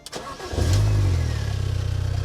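Old Mini with 200,000 miles cranks briefly and fires up, settling into a steady, close, rhythmic idle that pulses evenly after the start.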